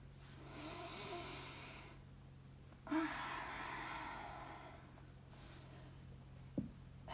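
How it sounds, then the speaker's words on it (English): Deep breaths during a floor exercise with the arms opening out and the legs raised to 60 degrees: two long, airy breaths, each lasting a couple of seconds, with a short pause between them and no talk. "Inhale, open. Exhale, back in."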